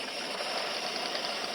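A toy car's engine starts with a steady, buzzing rattle, close by and continuous, with no talk over it.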